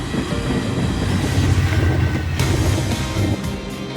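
A long iron ore freight train rumbles past close by in Norway, its heavy wagons giving a steady low roar with faint rhythmic clatter throughout, and no voices.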